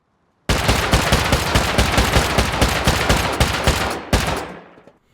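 A semi-automatic rifle in the game Rust, unsilenced and loaded with explosive 5.56 ammo, fires a fast, continuous string of sharp loud shots at a metal wall. After a brief pause comes one final shot, then a short ringing tail.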